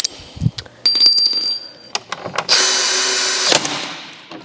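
A power drill whines at high pitch in a workshop, starting and stopping in short bursts with a bright metallic ring, then a longer loud steady run before it winds down.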